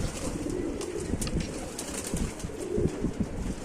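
Flying pigeons kept in a loft during airing coo steadily in soft, repeated throaty bursts that overlap continuously, close and fairly loud.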